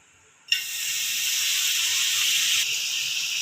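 Butter hits a hot dosa pan with a sudden onset and keeps up a loud, steady hiss of sizzling; the dosas are for a wheat breakfast and no one speaks.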